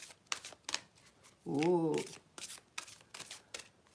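Tarot cards are shuffled in quick, papery riffling bursts, close and soft. A brief voiced exclamation breaks in midway.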